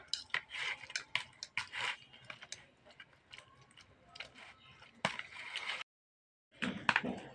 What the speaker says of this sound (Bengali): দিয়ে হাতাটাকে দিয়ে আমি এই টমেটো, বেগুন, রসুনটাকে ভালো করে ঘেটে নেব কিছুক্ষণ ধরে